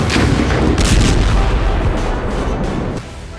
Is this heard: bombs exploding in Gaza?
yes